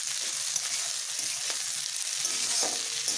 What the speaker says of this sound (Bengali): এগুলোকে ভেজে নিচ্ছি।